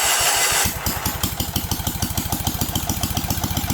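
A 1977 Sears 16/6 garden tractor engine catches and runs, settling into a rapid, even chugging idle close by after a brief burst of starting noise.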